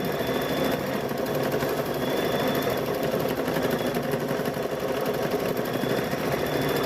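An embroidery sewing machine stitches a quilt held in a 5x7 hoop, giving a steady, continuous mechanical whir with rapid needle pulsing, close and loud throughout.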